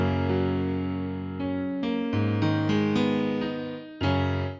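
A second free stock piano plugin plays a slow sequence of sustained notes and chords, each struck clearly and left to ring before the next, with no talking.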